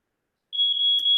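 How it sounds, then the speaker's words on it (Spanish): An alarm from a simple machine learning face-mask detection project sounds as a single steady high-pitched electronic beep, starting abruptly after silence and holding continuously, loud and close. "vemos como inmediatamente surge la alarma"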